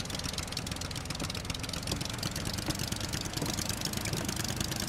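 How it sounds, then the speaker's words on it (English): A boat engine in Stranded Deep runs forward over choppy sea, a steady low droning chug that holds at an even, moderate level without pause. "Oh, you have to hit forward on the engine."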